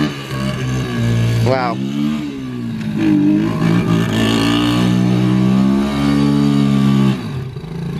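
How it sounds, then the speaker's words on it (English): A big-block car does a burnout in a front yard, its engine revving hard with a rising rev sweep and then a sustained loud roar for several seconds before dropping off, while people talk over it. "just rip a huge burnout in the front yard"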